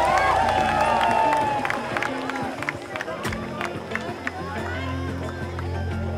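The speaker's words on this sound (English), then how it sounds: "Big round of applause for you." Clapping and cheering from a crowd at a yoga world record attempt in Pune, a brief swell of applause under a woman's speech that fades into background crowd murmur.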